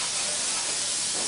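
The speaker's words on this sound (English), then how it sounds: "And we just use some baking spray." Baking spray hissing steadily from an aerosol can as it coats loaf pans in a home kitchen, one continuous close, loud spray with no pauses and no talking.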